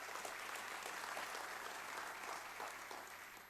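Steady applause from a crowd at South Africa's 2020 State of the Nation Address fills the space, a dense patter of many hands clapping without pause, fairly distant and even.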